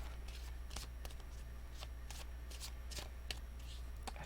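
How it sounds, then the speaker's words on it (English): Tarot cards are shuffled by hand in quick riffling bursts, about a dozen soft, crisp rustles spaced unevenly over a low steady hum, with no voice. "Alright, 2 more shuffles after this one."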